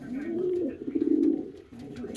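Racing pigeons coo steadily in a loft during winter breeding, a low continuous murmur of several birds close by with faint rustling.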